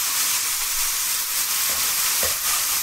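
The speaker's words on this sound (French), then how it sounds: "on va déglacer avec un petit peu de Porto" A pan with garlic deglazed with a splash of port wine, giving a loud, steady, close sizzle and hiss throughout with a few faint stirring knocks, no talking.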